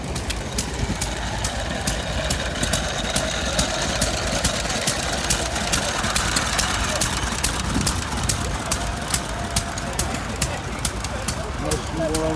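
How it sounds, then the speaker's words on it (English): Small stationary gas engine running at a tractor fest, a steady low chugging beat held throughout amid a busy outdoor show crowd, with people talking nearby. "Nice small engine there like that. Little gas engine."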